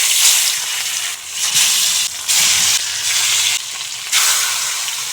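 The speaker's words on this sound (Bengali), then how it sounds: "এখন দিয়ে দেব মাছ।" Fish pieces rubbed with turmeric and salt hit hot oil in a wok, a loud, close, crackling sizzle that dips and surges in bursts over about five seconds, with no voices.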